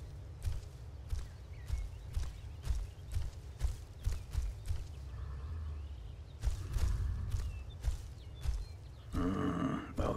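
A horse in Skyrim clip-clops along with regular hoofbeats at walking pace, fairly close and clear, pausing briefly before the steps resume, with a short burst of other game noise near the end.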